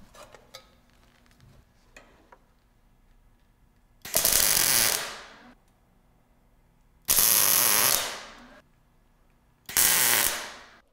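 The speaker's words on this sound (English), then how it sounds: "Now I'll tack up the folding chimney." Steel pieces of a folding chimney for a portable rocket stove are tack welded: three short, harsh crackling bursts about a second each, separated by quiet pauses with a few faint clicks before the first.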